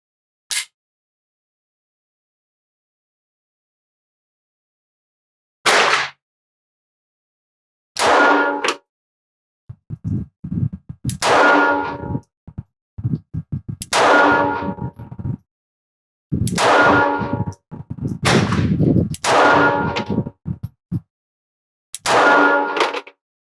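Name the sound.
Springfield Hellcat 380 pistol firing 10 shots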